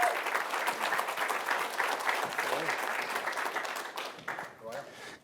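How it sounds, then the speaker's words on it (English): An audience at an interview event applauds James Becerra with steady, dense clapping that holds for several seconds before thinning out near the end. "So please give James a big round of applause."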